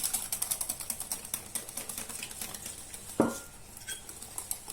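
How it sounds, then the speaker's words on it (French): Whisk or spoon scraping briskly around a bowl as flour and almond powder are worked into clafoutis batter with soft butter and vanilla, a fast run of rhythmic clicking strokes close by, then a single louder knock against the bowl and slower taps. "je touille bien pour casser tous les grumeaux"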